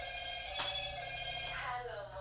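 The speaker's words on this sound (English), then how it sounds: "And that's my phone ringing" A mobile phone rings faintly through a steady hum of room noise, its tone partly masked by clatter in a home where concrete patching and carpet glue removal are under way.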